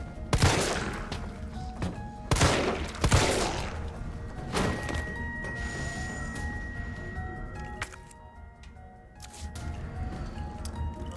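Shotgun fire in a video game, several heavy booming blasts in quick succession early on followed by a fainter shot, with game ambience and tones lingering afterward.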